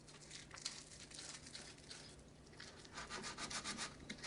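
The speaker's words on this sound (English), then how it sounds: "I'm going to come back in with some freehand sandpaper like 80 grit and kind of smooth out my transitions" Coarse 80-grit sandpaper is rubbed by hand over a sculpted motorcycle fuel tank, giving a continuous close, gritty scratching with quick back-and-forth strokes that grow slightly louder toward the end.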